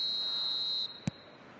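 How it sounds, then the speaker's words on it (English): A referee's whistle starts a football match: a steady high tone holds for most of a second over crowd murmur, then cuts off, followed by a short sharp blip. "There's the whistle, and here we go."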